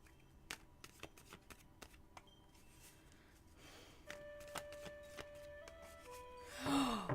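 Tarot cards are shuffled close by in a quiet room, producing a series of soft, sharp riffling snaps, followed by a brief rustle at the end.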